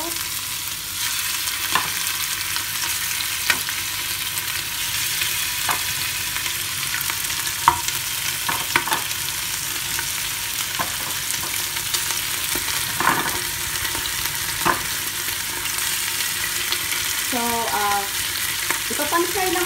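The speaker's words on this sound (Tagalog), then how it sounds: "Ipapan-fry lang po natin ito ng saglit." Oxtail pieces fry in a pan for a red wine stew, a dense, loud, continuous sizzle with occasional pops and crackles and light stirring scrapes.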